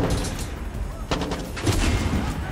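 Gunfire in the video game Far Cry 6 comes as rapid, rattling bursts of shots over a rumbling battle background, loud and close with no talking.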